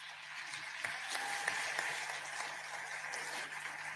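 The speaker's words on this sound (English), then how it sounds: "Another round of applause for President Samia Suluhu Hassan" An audience applauds President Samia Suluhu Hassan at the Africa Climate Change Summit 2023 in Nairobi, Kenya, heard as faint, distant, steady clapping with a few sharper claps through the whole stretch.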